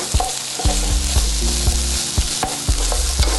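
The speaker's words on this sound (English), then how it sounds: "My vegetables are sauteing way faster than I thought they would." Vegetables with garlic sauteing in a fajita pan give a loud continuous sizzle, close up, broken by repeated clicks and scrapes of stirring.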